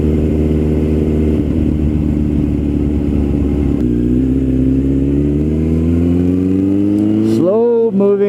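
A 2008 Suzuki Bandit 1250S motorcycle rides along a smooth paved road, its engine droning steadily and loudly up close, with the pitch climbing as it accelerates near the end.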